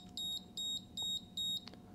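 A smoke detector chirps four times in a steady, rapid rhythm, each beep short and shrill, heard fairly close in a quiet room.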